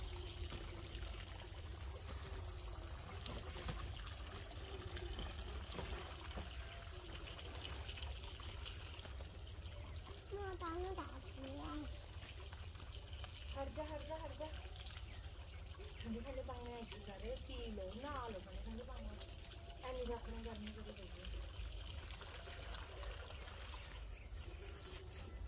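Water from a motor pump pours and trickles steadily at a farm field where cabbage is being planted, a continuous close wash with voices talking over it at times.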